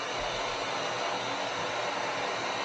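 A heat gun blows a steady, even hiss of hot air onto a motorcycle belly pan for a Triumph Street Triple RS, a constant close whooshing tone with no talking.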